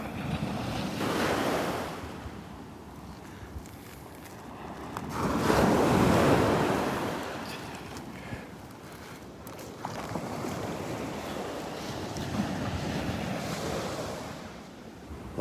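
Surf rolls onto Delnor-Wiggins beach in steady washes, with a louder wave surging around the middle, wind buffeting the microphone throughout and no voices.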